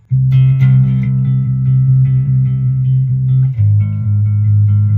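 A low bass guitar note sustains and rings out steadily, then shifts to another sustained low note near the end, alone without any talking.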